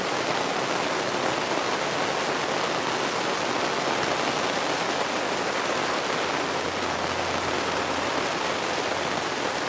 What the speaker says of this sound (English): we'll see how much rain we get out of it